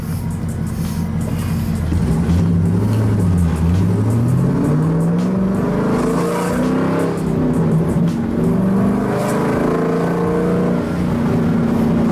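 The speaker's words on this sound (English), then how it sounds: "The pops are way more often and aggressive ever since I cut those mufflers off." 2012 Camaro SS 45th Anniversary with its mufflers cut off, engine droning loudly as it accelerates and shifts on a drive, pitch rising and falling, with scattered crackling exhaust pops over the steady rumble.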